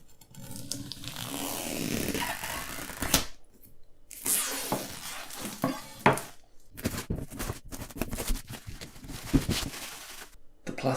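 A big knife slices and scrapes through the plastic wrap on a boxed set, giving close, bursty tearing and cutting strokes separated by short pauses, with no talking.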